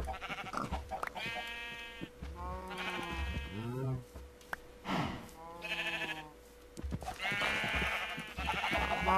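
Repeated Minecraft sheep bleats, several overlapping calls with wavering pitch, loud and close, over a steady background hum.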